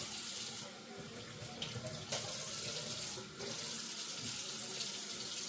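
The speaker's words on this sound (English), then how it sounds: "Wring them out until they get clear water coming out of them." Tap water runs steadily and loudly while polishing buffing pads are wrung out under the stream, with faint splashes and squelches breaking through the constant flow.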